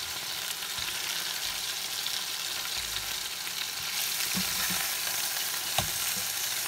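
A pork burger patty sizzles steadily on a grill as it is mashed down, a constant crackling fry with a few soft scrapes and taps from the spatula.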